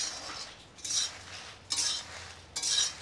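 Chopped chillies frying over low heat in a pan, with soft sizzling and three short scraping bursts of stirring spaced about a second apart, close and fairly quiet, with no voices.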